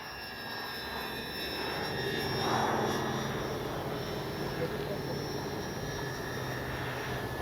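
An Avios Twin Otter RC airplane flies in strong wind, its electric motors giving a steady droning whine that swells briefly as it passes nearer, then holds at a moderate distance.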